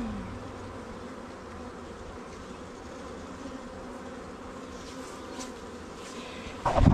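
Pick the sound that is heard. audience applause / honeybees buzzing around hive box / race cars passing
honeybees buzzing around hive box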